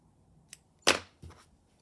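Scissors snipping yellow yarn for a crocheted flower brooch, a soft tick and then two crisp close cuts, the middle one loudest, in near silence.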